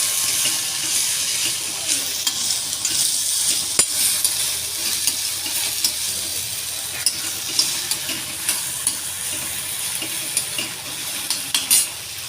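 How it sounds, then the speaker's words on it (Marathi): Korean-style Maggi noodles and masala frying in a pan, a steady close sizzle with scattered sharp clicks and scrapes of a utensil that grow more frequent toward the end. "चांगलं जरा ते फ्राय होऊ दे"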